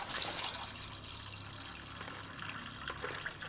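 Soaking water pours off red peas in a steady, soft gush, like a tap or sink draining, running continuously at low level throughout with no talk.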